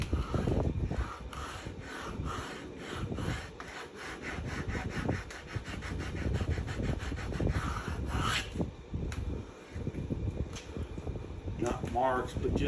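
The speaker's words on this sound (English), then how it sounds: "now what we'll do is come through here with the sandpaper and level out those little" Sandpaper rubs back and forth over a wooden saddle surface, leveling small rough blade marks, in a steady run of close, rhythmic scraping strokes with a faint hum in the background.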